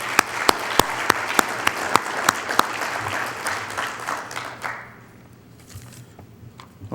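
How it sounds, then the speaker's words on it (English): Applause from the audience at an association's annual meeting closing session, rising as a dense crowd clatter with a few sharp louder claps standing out, then thinning and fading away after about five seconds. "let's have a round of applause for that"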